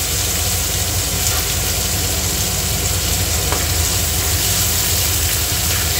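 Chopped tomatoes stirred in a hot pan with a continuous low sizzle and soft scraping of the spoon, close and steady with no talking.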